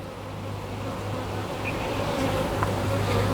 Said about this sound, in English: Bottom looks busy with bees.